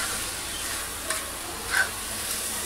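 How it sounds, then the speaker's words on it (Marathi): Onion with tomato, coriander and curry leaves frying in a pan for a Maharashtrian bhaji, a steady soft sizzle with a couple of brief stirring scrapes, no talking. "भाजतोय कांदा, ही टोमॅटो, कांदा, कोथिंबीर,"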